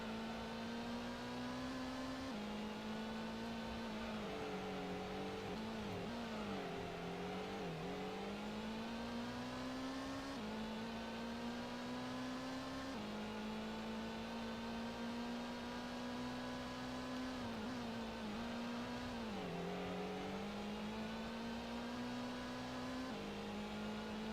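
A racing car engine in the video game Gran Turismo drones steadily at high revs, its pitch dipping near 7,000 RPM and climbing again with gear changes, loud and continuous without any talking.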